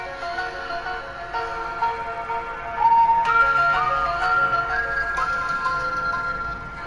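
Illuminati meme theme tune playing, a tinkling music-box style melody of slow rising high notes over a sustained layered backing, steady and moderately loud with no talking.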